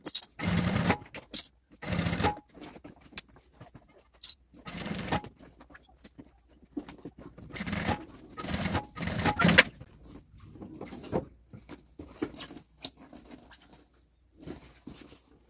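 A sewing machine stitches a zipper onto a three-compartment baby bag, running in a series of short, close bursts with brief pauses between them.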